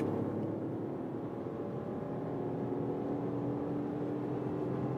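BMW X1 plug-in hybrid accelerating hard on a German motorway from about 115 to 170 km/h, a steady interior drone of engine and road noise rising gently with speed, no talking.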